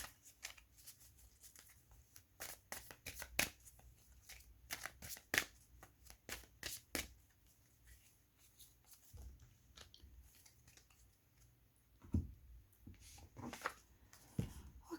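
Tarot cards are shuffled and drawn close up, quiet, with bursts of crisp riffling and soft slaps separated by brief pauses.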